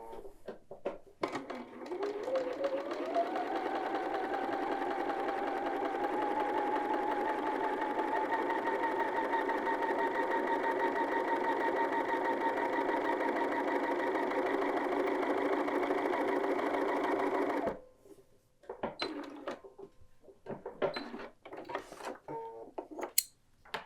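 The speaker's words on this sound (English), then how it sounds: "Now we need to understitch along the seam line through the lining and both layers of seam" A sewing machine runs steadily for about fifteen seconds, understitching a lining seam on a quilted jacket, then stops and gives way to light handling clicks and rustles.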